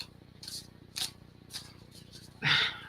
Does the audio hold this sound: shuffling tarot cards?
yes